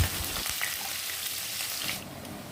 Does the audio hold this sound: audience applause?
no